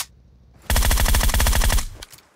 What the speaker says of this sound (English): Why you shoot me?